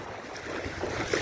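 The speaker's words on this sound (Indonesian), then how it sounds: "Kayunya dihantam ombak." Lake waves slap against floating timber off the edge of Lake Poso, a steady rough wash of water and wind noise close to the microphone, with a slightly louder splash near the end.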